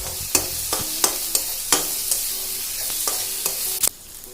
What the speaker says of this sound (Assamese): এইখিনি মই অলপ সময় এনেকৈ ভাজি আছোঁ।